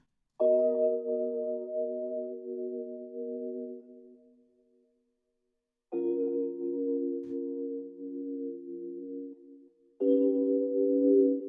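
A Rhodes electric piano sample with reverb and delay, playing sustained chords in three separate phrases that ring and fade into silence between them, with no voices.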